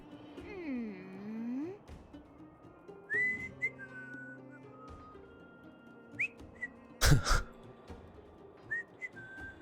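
Whistling in the game Honkai Star Rail, with several separate whistled notes and short rising phrases spread across the clip, set against faint game ambience.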